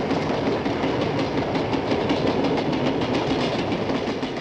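A steam-era oil-fired locomotive hauling an express train on a long main-line run makes a loud, steady rumble with faint rhythmic clatter throughout.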